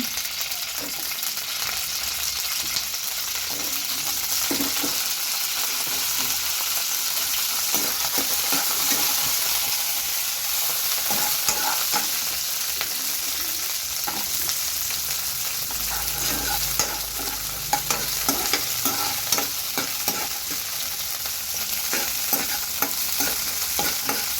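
Green chilies frying in a pan for tomato roti pachadi, a continuous crackling sizzle with frequent stirring clicks and scrapes throughout, fairly close, without speech.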